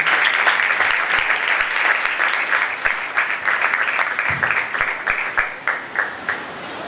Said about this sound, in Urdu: خداوند کے بندہ کے لیے زوردار تالیاں۔